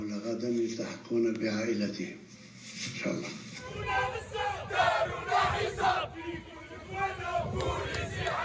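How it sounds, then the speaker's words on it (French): Small crowd gathered in front of Koléa prison near Algiers, a dense babble of many voices and shouts that swells after a quieter start, with nearby talk mixed in. "une petite foule se presse devant la prison de Koléa"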